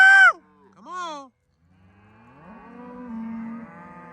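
Cattle moo on a farm pasture near a gate: a short bawl, then another brief call, followed by a longer drawn-out low moo, all close by with no one speaking.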